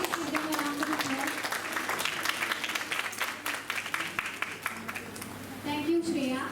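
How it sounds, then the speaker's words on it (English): An audience at a Republic Day patriotic song and dance competition claps steadily, a dense, moderately loud patter of many hands lasting several seconds, with some voices and a brief tonal sound near the end. "Please give them a round of applause."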